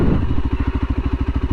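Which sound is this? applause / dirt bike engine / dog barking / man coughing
dirt bike engine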